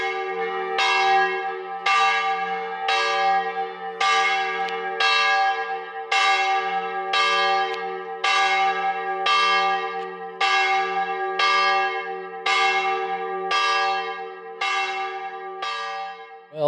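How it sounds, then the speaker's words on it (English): The noontime church bell in Lucignano, a Tuscan hill town, tolls about a dozen times in a slow, even rhythm, each loud bright strike ringing out and decaying into the next, with a low hum beneath and no voices. "I think this was the noontime bell the other day in Lucignano."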